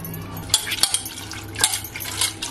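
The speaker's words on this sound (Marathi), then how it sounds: "आता आपण कोलंबी धुवून घेऊया" Salted prawns being rinsed by hand in a bowl of water, with close splashing, sloshing and a few sharp clinks against the container in quick irregular bursts.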